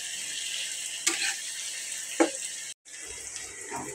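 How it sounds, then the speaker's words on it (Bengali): Garam masala spices frying with okra in a pan give a steady hiss and sizzle, close and fairly loud, with a couple of sharp stirring clicks and a brief gap near the end. "গরম মশলা এগুলো একসাথে বোনা করে ফেলতেছি।"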